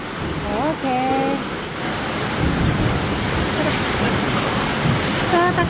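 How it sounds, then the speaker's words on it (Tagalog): Heavy rain pours down in a dense, steady roar close by, with brief voices speaking over it at the start and end. "Grabe yung ulan."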